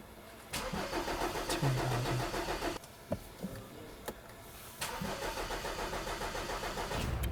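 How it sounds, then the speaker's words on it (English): Two bursts of a BMW N20 engine cranking, a starter churning rhythmically without the motor catching, separated by a short pause with a few clicks. "we're going to crank the engine 3 times for 10 seconds"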